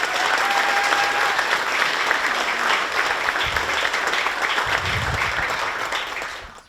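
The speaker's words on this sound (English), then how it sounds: "So another big round of applause for Jess," Conference audience applauding a security speaker at the end of her talk, a sustained, even roar of many hands clapping that fades out at the close.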